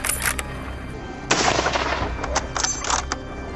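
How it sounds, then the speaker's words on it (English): A burst of gunfire at wild boars on farmland, several sharp shots in quick succession, fairly distant and echoing over outdoor background noise. "Gunshots rang out"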